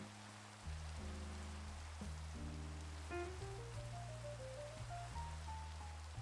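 Steady, soft rain hiss in the video game Minecraft, falling continuously beneath gentle game music with slow piano-like notes.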